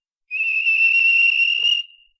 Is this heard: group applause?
no